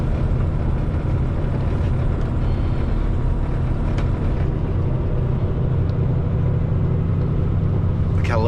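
A truck using its Jake brakes produces a loud, deep, continuous engine rumble, close and heavy, with a low throbbing drone that holds steady to the end.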